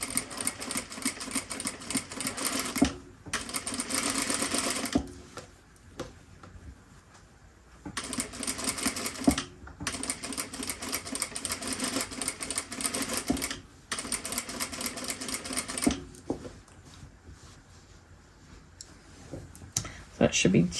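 A sewing machine stitches along an overlocked fabric edge in rapid mechanical bursts of several seconds each, separated by short pauses and quieter handling clicks, close and clear.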